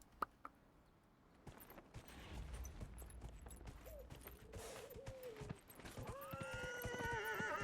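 Horse hooves clip-clop at a gallop in Dragon Age: Inquisition, with a neigh rising over the game's ambient sound and music building near the end.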